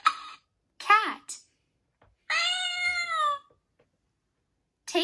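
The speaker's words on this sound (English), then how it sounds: "Cat." A cartoon cat in the Kiddopia children's game gives one clear, rising-and-falling meow, close and bright, between short bursts of a child-like narrator voice.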